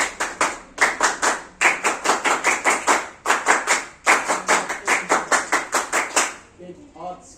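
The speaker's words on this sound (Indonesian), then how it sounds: "Nanti tepuk semangat sama tepuk pramuka." A group performs the Indonesian scout clap (tepuk pramuka), loud, close hand claps in quick, rhythmic bursts separated by short pauses, ending with brief murmuring voices.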